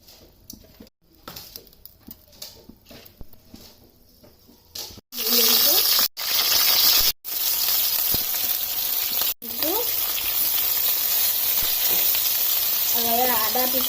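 Ginger paste sizzles loudly after landing in a hot kadai, a steady frying hiss that starts about midway with a few short breaks. A voice talks over the quieter first part.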